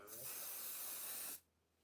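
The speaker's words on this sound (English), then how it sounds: "I'm going to be using this heat protectant spray" Heat protectant hair spray hisses from an aerosol can in one steady, close burst lasting over a second, then cuts off into quiet room tone.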